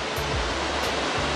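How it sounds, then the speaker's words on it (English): A waterfall on a mountain hiking trail sends up a steady, loud broadband roar of falling water, continuous and close with no pauses and no voices. "We are approaching the waterfall. Damn! Look at that waterfall!"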